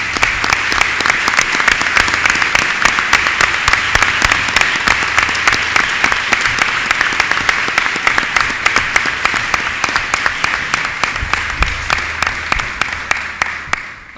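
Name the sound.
applause for Assembly members and Senators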